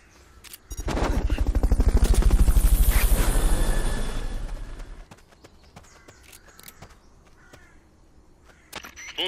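In Metal Gear Solid Peace Walker, a helicopter's rotor chop rises quickly to a loud, rapid thumping, holds for a few seconds, then fades out, leaving faint ambience and a few scattered clicks.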